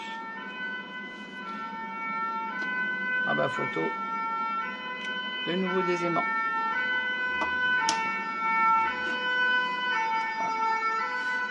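Emergency vehicle sirens near a fire station and hospital wail steadily and loudly for the full stretch with a sustained tonal cry, while someone speaks French over it.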